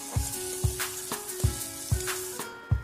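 Ground cumin, turmeric and chili powder are stirred through a sizzling pan for a green tomato and puti fish curry, with five regular spatula knocks about half a second apart over a continuous close fry.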